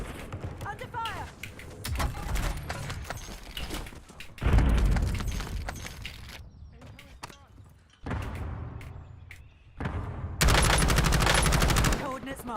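Bursts of automatic gunfire in Call of Duty Warzone come loud and close in several separate volleys, with mechanical clicks and someone talking between the bursts.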